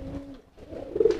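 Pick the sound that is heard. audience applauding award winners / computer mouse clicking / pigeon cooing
pigeon cooing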